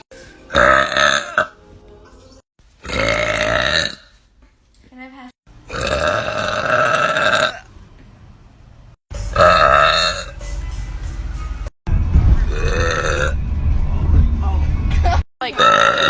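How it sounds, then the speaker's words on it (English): Several loud, drawn-out burps from young women, coming in separate bursts with short pauses between them, some deep and rumbling, others more voiced and croaky. "Was that a good burp?"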